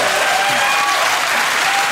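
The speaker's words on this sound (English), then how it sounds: "A round of applause for the duration of your waffle" A burst of studio audience applause at a comedy panel show, dense and loud from start to finish with a few whoops mixed in.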